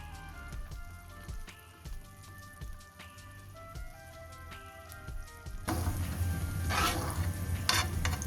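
Peanuts roast in a pan, giving a soft pattering crackle with repeated scraping taps of stirring, then a sudden, louder and denser rattling hiss near the end.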